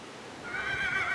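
A horse whinnies outdoors on a windy day, a loud rising neigh that begins partway through and holds steady over light wind noise, with no talking.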